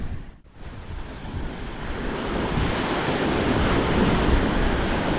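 River waves from a passing ferry's wake on the Mississippi slosh and build steadily under gusty wind, a loud continuous wash that swells over several seconds, close to the microphone with wind buffeting.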